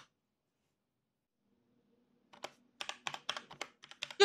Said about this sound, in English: Just some more typing in case you wanted to see this beautiful keyboard moving a little bit more.